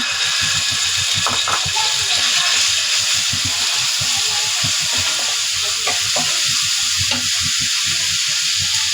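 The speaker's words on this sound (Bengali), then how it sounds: "মশলাগুলি আমি আগে ভালো করে কষিয়ে নিব" A paste of onion, ginger, garlic and turmeric fries in a pan with a loud, continuous sizzle and rhythmic scraping as it is stirred, under faint talk.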